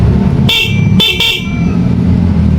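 Three short, loud electric bike horn honks sound over a running motor hum, the last two in quick succession.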